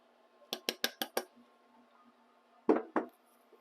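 Dry ingredients for gluten-free banana bread being mixed in a bowl: five quick utensil clinks against the bowl in a row, then a pause and two heavier knocks, all fairly faint and without talk.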